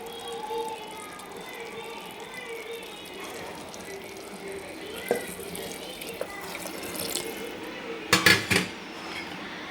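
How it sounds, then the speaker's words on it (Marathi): Heated water is poured into mutton cooking in a pot, a faint splash and gurgle followed by metallic clinks of a utensil against the pan, quiet and close. "तर आपण याच्यामध्ये आता पाणी टाकणार आहे गरम केलेलं तर पाणी टाकून घेते"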